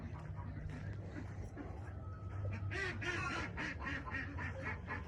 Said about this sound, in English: Hear them ducks in there.